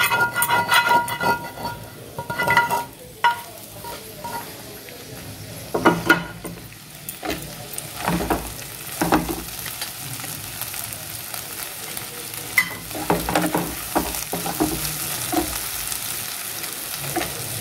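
Egg and vegetables stir-frying in a kadai, a constant loud sizzle with repeated scraping and clattering strokes of a spatula against the wok, close up and without speech.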